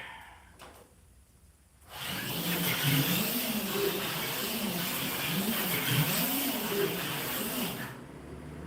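After a brief lull, a car on aluminum wheels roars up and holds a steady, rising-and-falling engine drone as it drives past at speed, fairly close, with tire hiss underneath.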